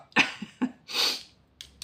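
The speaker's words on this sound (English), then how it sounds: "I think I'm gonna sneeze" A person sneezes at close range: two sharp bursts, each with a sudden nasal catch, then a long breathy exhalation, followed by two brief soft sniffs. No other sound is present.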